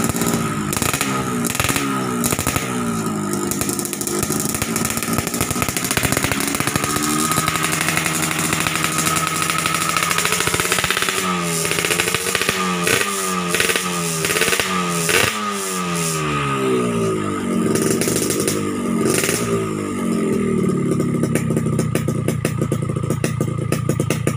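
A Yamaha RX-King motorcycle engine revs repeatedly, rising and falling in pitch in quick bursts, loud and close, with no talking.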